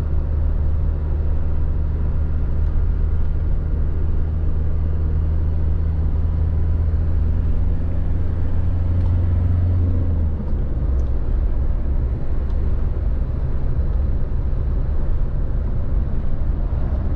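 A garbage truck passes along a street in Cluj, its loud low engine rumble droning steadily before easing off, with traffic noise continuing after.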